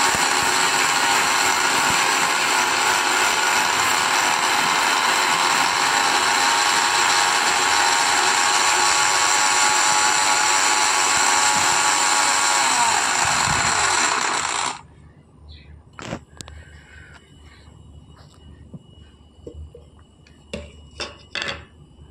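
A mixer grinder grinds spice powder for a tamarind chicken pickle with a loud, steady whirring roar for about fifteen seconds, then cuts out, leaving faint clinks and light kitchen handling noises.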